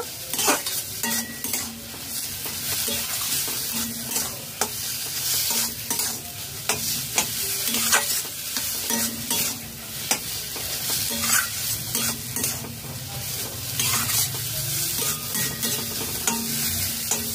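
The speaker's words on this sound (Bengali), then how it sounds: "সামান্য পরিমাণ কাঁচা সর্ষের তেল দিয়ে দেব। নাড়াচাড়া করে নেব।" Mashed eggplant with a little raw mustard oil and chopped coriander is stirred in a pan, with repeated scraping strokes and clicks of the spoon over a soft, steady sizzle.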